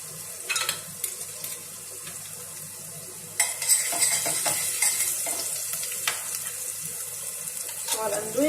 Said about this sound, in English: I'm going to wash the rice and dal